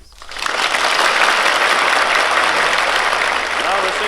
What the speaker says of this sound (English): Now receiving the applause from his fellow delegates, His Excellency Sir A. Ramaswamy Madalier